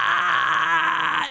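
A short, strained gritty scream with a raspy fry texture, held for about a second before trailing off.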